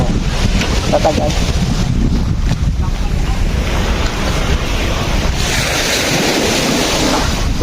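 Sea waves wash and surge around a moving boat, a loud continuous roar of surf mixed with heavy wind buffeting the microphone throughout.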